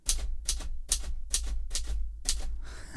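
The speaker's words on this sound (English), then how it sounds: "1933 Smith Corona typewriter." Rapid keystrokes on a 1933 Smith Corona typewriter clatter in six bursts of sharp mechanical clicks, close and fairly loud, with a faint low hum underneath.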